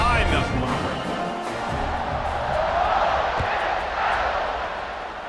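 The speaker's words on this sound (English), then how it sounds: "this crowd now ready to get behind them" A stadium crowd in EA Sports College Football 26 roars in a broad, sustained wash of cheering, steady and loud throughout, with a commentator's voice running over it.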